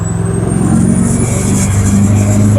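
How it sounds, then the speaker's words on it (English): A loud diesel engine in a Chevrolet C-10 truck revs and roars up close while rolling coal, a steady heavy rumble with a high whine rising over it. "See, pick up the rolling coal"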